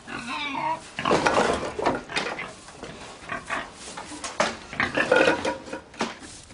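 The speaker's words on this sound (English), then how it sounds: "kindly remove your pig from my garage" A pig grunts and snorts repeatedly inside a garage, with clattering household clutter nearby; the oinks come in irregular close bursts with no talk over them.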